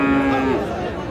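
A cow moos in one sliding, drawn-out low call at a busy village cattle market, Raniganj haat in Dinajpur, where Friesian heifers are sold, with people talking nearby over the crowd noise.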